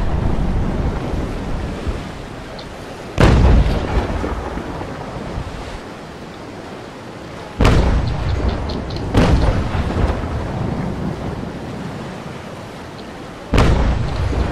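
Loud cannon blasts from a naval brig battle in a video game, three heavy booming impacts spaced several seconds apart with a low rumble, one a shot striking a ship at the waterline, over a steady roar of wind and surf.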